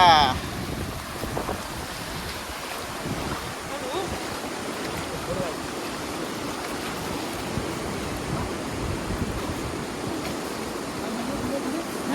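Sea waves wash over the Malvan shore in a constant broad, close roar of rushing water, with voices faintly mixed into the surf.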